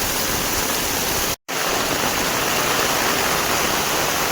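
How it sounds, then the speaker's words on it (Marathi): Floodwater surges through a Konkan village after sudden heavy rain, a loud, steady roaring rush with one brief dropout partway through. "पाणी बघा इकडनं पण किती वाहतं"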